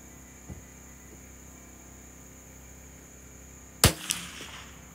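A CZ 457 Varmint rifle fires one sharp, loud shot that cracks out of a quiet outdoor hum, with a quick echoing tail and a smaller follow-up report just after.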